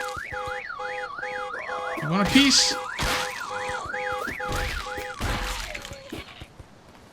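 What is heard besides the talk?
car alarm going off in a video game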